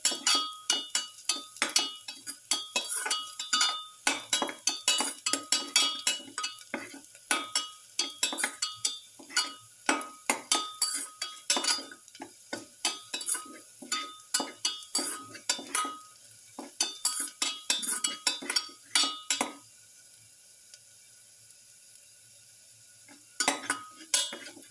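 Rapid, irregular clinks and scrapes of a utensil stirring in a pan while sautéing for a black pepper king fish papaya stew with garlic, close and crisp, with a short pause near the end.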